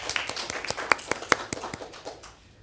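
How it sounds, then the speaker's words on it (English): Sparse, scattered clapping from a small audience at a city council meeting, a handful of distinct claps at uneven intervals that thin out and fade. "it's okay to give her a round of applause"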